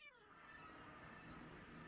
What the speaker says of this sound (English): If you're wondering what that cat noise is, it's my boots.